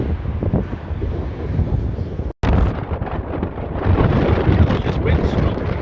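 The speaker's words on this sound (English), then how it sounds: "This wind strong." Strong wind buffets the microphone outdoors at a Blackpool seaside amusement park, a loud continuous rumbling roar broken by a brief dropout, with a voice faintly heard under it.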